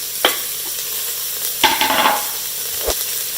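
Finely chopped yellow onion and two garlic cloves sizzle in an Instant Pot, a steady frying hiss broken by three brief stirring clatters, close and alone with no voices.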